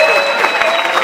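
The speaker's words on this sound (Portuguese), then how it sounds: "Senhoras e senhores, palmas para a única resposta certa da história de um jovem." A studio audience claps in a brief, dense burst of applause, loud and close, lasting only about a second.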